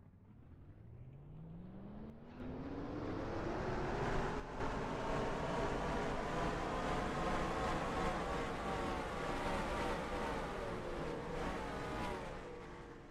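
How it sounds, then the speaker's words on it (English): A race car engine at the Nashville Music City 200 fires up and climbs into a sustained, rising rev, the roar holding loud and steady for several seconds before easing off slightly. "They're starting the engine revving it up,"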